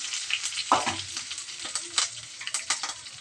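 Water poured into a hot tempering of cumin, mustard seeds and curry leaves, bursting into a loud close hiss and sizzle that keeps crackling with stirring, no voices.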